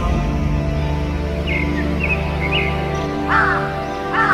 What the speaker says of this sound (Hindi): रास्ते में चिड़ियों और जंगल की सनसनाहट बहुत ही मनमोहक संगीत की भांति गूंज रही थी।